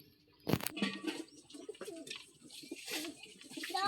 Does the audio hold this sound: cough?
no